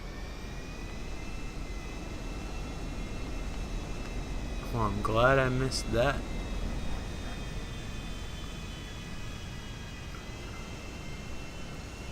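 A jet aircraft flies in Grand Theft Auto V with a steady, continuous engine roar throughout, while someone briefly speaks over it midway.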